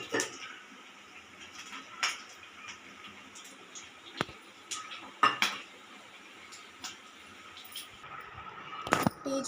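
Dishes and cutlery clink softly as urad vada made from leftover rice is served into a serving bowl, with scattered light taps and chimes spread across the clip and no talking.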